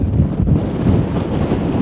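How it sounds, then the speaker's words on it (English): Strong, biting wind buffets the microphone at an exposed fell campsite, a loud, constant roar without let-up and no talk over it. "it is extremely windy, and the wind chill is absolutely brutal"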